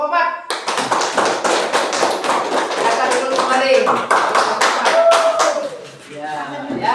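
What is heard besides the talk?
classroom applause for group 4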